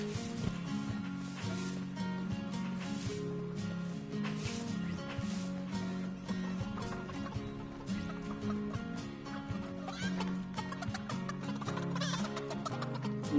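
Chickens clucking in Fortnite, a string of busy clucks and squawks over steady background game music, no speech.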